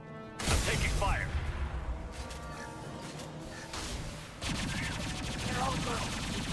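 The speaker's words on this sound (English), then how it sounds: "I'm taking fire." Sustained gunfire from a video game battle, dense overlapping shots and bursts running loud and continuous throughout, with someone talking over it.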